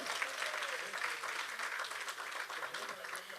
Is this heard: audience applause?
yes